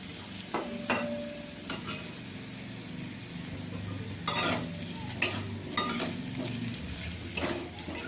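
Potatoes frying in oil in a pan, a steady close sizzle broken by repeated scraping and clinking strokes of a spatula stirring against the metal.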